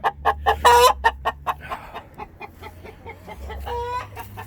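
Hens clucking in a backyard compost pen, a rapid run of close, loud clucks and squawks at the start, then quieter scattered clucking with another burst near the end.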